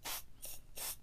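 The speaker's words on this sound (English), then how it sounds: "just give it a little spritz there" Compressed air sprayed into the dusty fan vent of an ASUS G Series gaming laptop, with the fan held still: three short, loud hissing bursts in a steady rhythm, close to the microphone.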